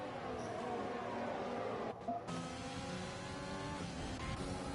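Racing cars in a video game race, a long train of cars running close together on a Great Britain circuit, engines droning steadily with overlapping tones and a brief dip midway.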